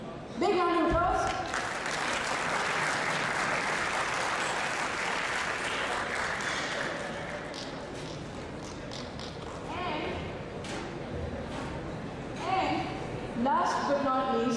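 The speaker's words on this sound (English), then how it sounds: "Big round of applause." Audience applause at an awards gala night, a dense, sustained wave of clapping that swells loudly and then eases off, with voices and cheers mixed in and briefly rising over it toward the end.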